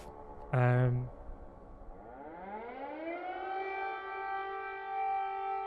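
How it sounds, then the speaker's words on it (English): A civil defense air-raid siren in Kyiv winds up, its wailing tone climbing steadily and then holding a loud sustained pitch; a brief tonal burst sounds near the start. "sirens going off in Kyiv"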